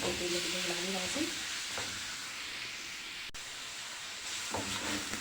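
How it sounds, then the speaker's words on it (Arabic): Minced meat sizzles and hisses in hot ghee with mastic for Saudi kabsa, close and steady, with occasional stirring scrapes of a spoon in the pot. "اشوح الاول اللحمه المفرومه معايا"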